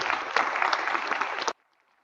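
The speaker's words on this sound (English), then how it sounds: "So give yourselves a round of applause" A cross country team applauds at a girls' awards event, a dense burst of clapping that runs steadily for about a second and a half before stopping abruptly into near silence.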